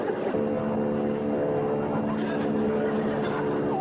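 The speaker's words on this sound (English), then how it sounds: "That sounds like my plane." A propeller plane drones steadily overhead, a continuous humming buzz with a faint shifting tone, moderately loud and unbroken throughout.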